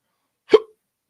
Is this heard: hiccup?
yes